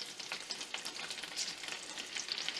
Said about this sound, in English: And we're going to just start sauteing them down with just the oil on it.